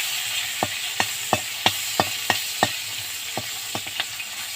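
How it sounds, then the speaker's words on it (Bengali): Dried red chilies frying in a pan, a soft steady sizzle punctuated by about a dozen sharp, evenly spaced taps and pops, close and without talk. "এই শুকনো লঙ্কা কটাও আমি একটু ভেজে নেব"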